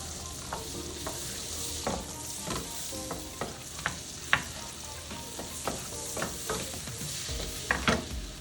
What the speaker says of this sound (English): Now the butter is melted. We're gonna start putting our onion.